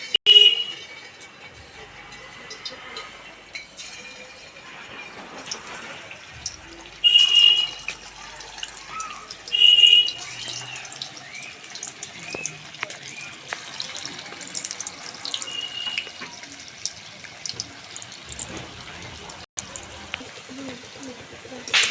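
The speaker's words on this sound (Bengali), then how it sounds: "আমি এবার একে একে টপকা বলগুলো তেলে দিয়ে ভেজে নেব।" Raw potato balls fry in hot white oil in a wok over low heat, giving a soft, continuous sizzle with a few louder bubbling flare-ups as pieces are added.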